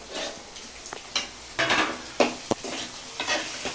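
Garlic frying in oil with urad dal and cumin, a steady close sizzle broken by several sharp stirring scrapes and clinks of a spoon against the pan, with no voices.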